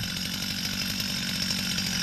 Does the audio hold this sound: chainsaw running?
yes